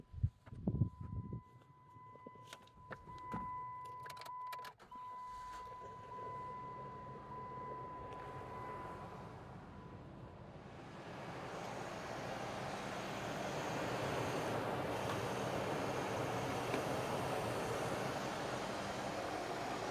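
A 2006 car being jump-started with a GOOLOO 1500A jump starter: a few sharp clicks and a brief tone at first, then a loud, steady engine rumble that swells in and holds to the end.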